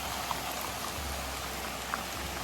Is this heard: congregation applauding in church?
no